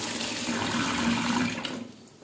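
Water splashes and sloshes steadily as raw anchovies are washed in a bowl of water for a fish dish, a close, continuous wet rush that fades toward the end.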